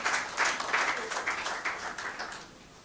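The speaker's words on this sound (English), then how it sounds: "Round of applause for the provost." An audience at a college gathering before a matriculation lecture gives a brief burst of clapping for the provost, fairly soft and fading out within a few seconds.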